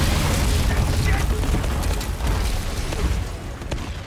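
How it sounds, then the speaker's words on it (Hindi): Explosions in the Uncharted 4 video game make a dense, continuous wash of heavy booms and rumbling blasts, loud and sustained, easing slightly toward the end. "ओ यार ये तो बहुत धमाके हो रहे हैं।"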